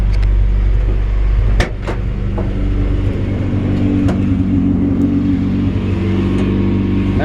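A 1963 International Scout's old engine fires up on the choke, a loud, close, low rumbling idle after a sharp start, then settling into a steady throbbing run with a few brief revs, and no voices over it.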